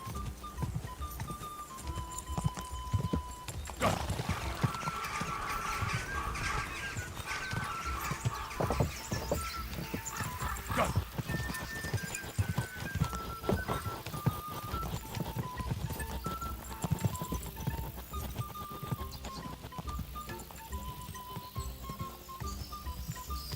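Rapid hoofbeats of a galloping horse in Kingdom Come: Deliverance 2 over a steady game soundtrack, with melodic tones and occasional louder thuds, continuous throughout.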